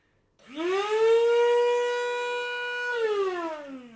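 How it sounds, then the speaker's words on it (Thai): A plug-in multipurpose electric grinder for chili, garlic and coffee beans runs empty. Its motor whine climbs quickly, holds loud and steady for about two and a half seconds, then dips. "ทดลองเครื่องให้ดูก่อนว่ามันแรงขนาดไหน อันนี้คือ ยังไม่มีอะไรนะ"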